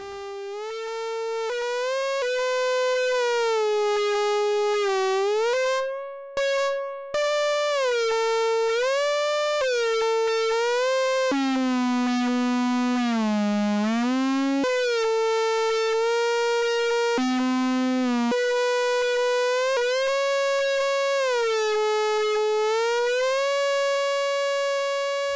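Dry signal of an AI011 oscillator fed through a low-pass gate: a sustained synth tone with rich harmonics that glides and bends between pitches, sliding up and down like a siren, with brief dropouts, loud and alone.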